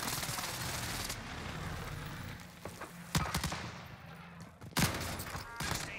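A precision airstrike in Warzone Rebirth Island lands as a dense, continuous barrage of explosions and gunfire-like bursts, loud and sustained, with a few sharper blasts near the end.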